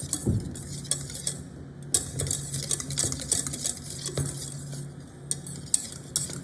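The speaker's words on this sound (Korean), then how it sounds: "약간 되직할 정도로 저어주세요." A spoon or whisk stirs a thick fig tart filling in a bowl, a continuous close scraping and swishing with light clinks against the bowl's sides, no talking.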